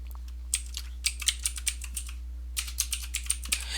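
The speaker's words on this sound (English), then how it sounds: "I go into the name box and I'm just going to type price list." Typing on a computer keyboard while entering a range name in Excel, a quick run of light clicking keystrokes in two bursts with a short pause between them, close, over a low steady hum.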